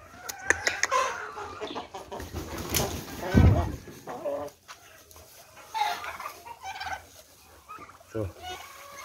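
Pet turkey gobbles in a short burst amid clucking chickens close by, with scattered bird calls before and after.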